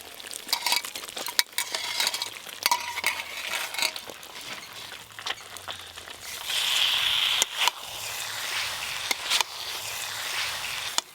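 Fried cauliflower florets being stirred into spiced gravy in oil, with scraping spoon strokes, clinks and a steady sizzle that swells louder toward the end.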